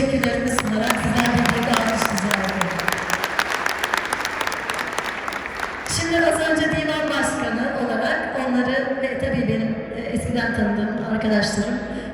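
An audience at a political speech gives sustained loud applause of steady dense clapping, with a voice speaking over part of it.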